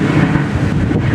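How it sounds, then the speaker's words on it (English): Strong wind blows and buffets the microphone in a loud, continuous roar outdoors, with a big tree thrashing nearby and trash cans out along the street. "when it's real windy and you're out here with your telephone or whatever, you can't hardly hear."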